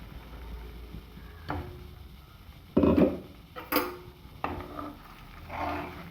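Flour for siruvani podi urundai goes into hot oil in a pan and is stirred, giving faint sizzling, a few scraping and clinking knocks of a utensil on the pan, and one brief louder rush.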